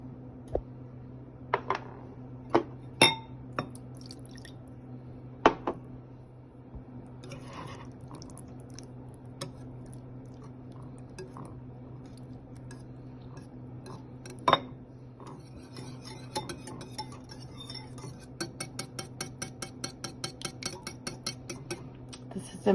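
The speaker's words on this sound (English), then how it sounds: "we're gonna mix the salt, the yogurt, and the lemon juice and have it ready" A spoon stirs and scrapes salt, yogurt and lemon juice in a bowl for homemade feta cheese, giving sparse clinks early on and a quick run of light rhythmic taps near the end over a quiet electrical hum.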